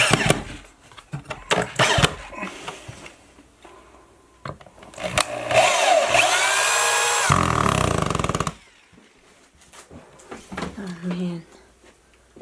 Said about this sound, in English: Do you want me to hand you the drill?